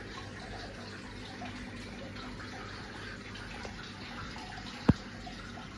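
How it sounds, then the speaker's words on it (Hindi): Water steadily falls and splashes inside the filtration system of a new three-foot goldfish aquarium, a continuous soft trickling rush at close range with one sharp click near the end. "पानी यहाँ से गिर रहा है ऊपर से, ना कि नीचे से आ रहा है"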